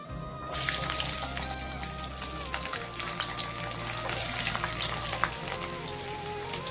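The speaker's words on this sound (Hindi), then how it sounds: "तो फ्रेंड्स इसी तेल पे मैं पहले लहसुन ऐड कर देंगे" Garlic added to hot oil in a kadai sizzles and spits continuously, a close, bright crackling fry with a steady low hum running beneath it.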